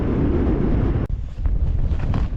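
Strong gusting wind on a frozen lake during ice fishing, loud and close as it roars across the microphone with a brief lull partway through before the buffeting resumes.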